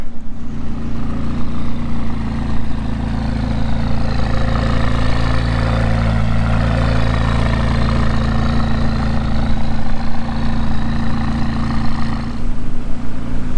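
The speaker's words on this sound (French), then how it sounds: "Allez, c'est le départ de la 570." A McLaren 570 supercar engine growls steadily as the car pulls away, a loud, deep, sustained drone that rises and shifts in pitch before cutting off near the end.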